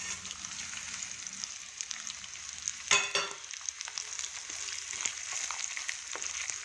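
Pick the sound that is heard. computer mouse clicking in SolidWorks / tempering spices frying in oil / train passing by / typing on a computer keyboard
tempering spices frying in oil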